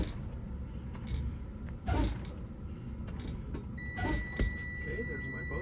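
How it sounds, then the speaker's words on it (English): A truck's low air pressure warning buzzer sounds during a CDL pre-trip brake test, a steady electronic tone starting partway through over cab creaks and air release noise. "there's my buzzer"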